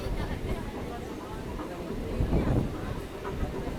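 A local train pulls out of Sipat Srikhanda railway station on the Barddhaman to Katwa line, its low rumbling roll building steadily and close under a voice talking throughout.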